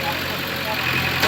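A bulldozer engine runs in a steady, idling drone that stays close and fairly loud throughout, with a voice speaking over it.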